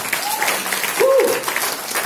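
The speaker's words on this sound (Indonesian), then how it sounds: "Kasih tepuk tangan buat Tuhan." A church congregation claps during a service, steady applause with a voice briefly calling out over it.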